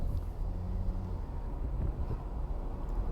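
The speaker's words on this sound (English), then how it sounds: "can hear those wind rush from the windows" Wind rushes in through open car windows as the car drives, a steady close roar with low rumble, continuous and without voices.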